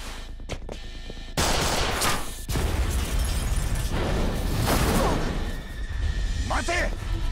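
Gunfire in the video game Judgment, a dense run of loud shots and bangs crackling across the scene, with a brief lull before another burst, game voices mixed in.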